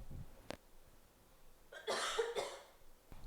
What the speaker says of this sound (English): Oh my god, I have to cough.